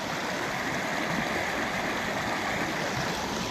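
Irrigation canal water floods into farmland, a loud, dense, continuous rushing and gurgling flow that stays close and steady, with no voices.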